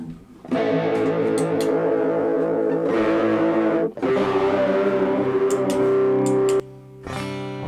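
An electric guitar plays sustained chords through a cheap multi-effect unit, soaked in heavy reverb and effects, with a few pauses and swells, ringing out alone.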